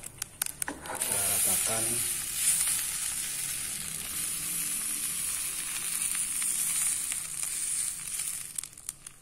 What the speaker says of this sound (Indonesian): Kita mau goreng tanpa minyak yang teflon kecil.